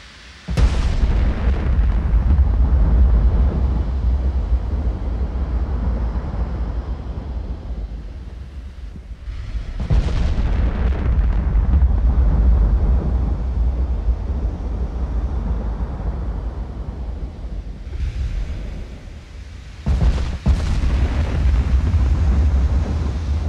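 Huge rumbling booms from warship ammunition detonating in the naval video game Ultimate Admiral: Dreadnoughts. Three heavy blasts hit several seconds apart, each followed by a long roaring decay over a windy, sea-like background with no talking.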